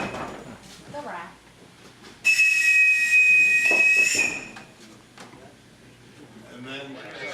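A shrill, steady whistle sounds inside the Whacky Shack haunted funhouse attraction at Waldameer Park. It blares loudly for about two seconds mid-clip over background noise, with people talking before and after it.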